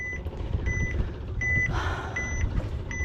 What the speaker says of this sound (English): Let's go find out what's beeping.